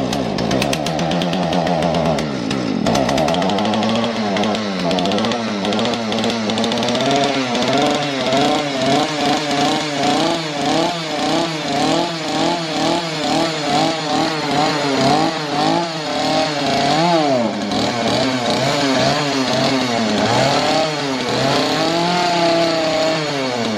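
Chainsaw engine idling and revving with no bar or chain fitted, a loud close two-stroke drone that rises and falls in repeated surges.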